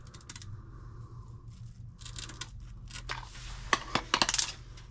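Scissors snip away surplus material during tail light installation on a 1960 Morris Minor 1000, giving faint, quiet rustling and several sharp, close metallic clicks and cuts that bunch together near the end.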